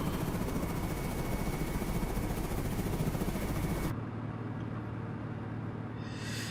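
A Razorbill aircraft in a naval combat game gives off a steady, loud whirring engine drone that cuts abruptly to a quieter hum partway through, with a brief airy swell near the end.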